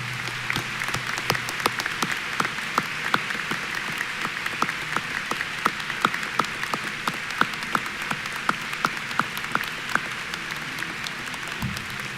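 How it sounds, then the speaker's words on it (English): High school graduation audience applauding graduates enlisting in the military and service members, sustained clapping from a large crowd with distinct sharp claps standing out in a rhythmic run, lasting over ten seconds. "Let's give them a round of applause."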